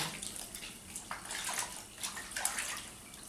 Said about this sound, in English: Just rinse it with water.